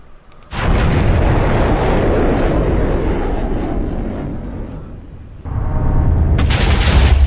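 Cluster missile explosions in the Minecraft Voltz mod: a sudden loud blast swells into a long, dense roaring rumble, fades slightly, then a second burst of explosions hits near the end.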